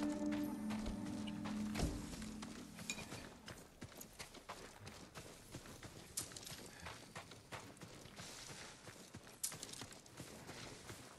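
Horses walking in the video game Ghost of Tsushima, a steady run of clip-clopping hoofbeats with irregular rhythm over soft game ambience.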